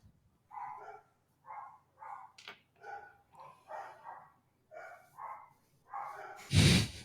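Dogs bark repeatedly, about a dozen short moderate barks in an uneven rhythm with small gaps, ending in a louder, harsher burst, with no talking.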